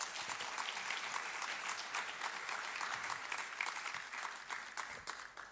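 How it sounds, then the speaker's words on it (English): Applause for a keynote speaker at an international community engagement conference: a sustained, even patter of many hands clapping in a hall, fairly soft and distant, with no speech over it. "May we please give Dr. Paphitis a round of applause?"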